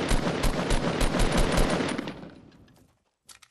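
Rapid automatic gunfire in the video game Fortnite rattles loud and close for about two seconds, fading out, followed by a brief burst of faint distant shots.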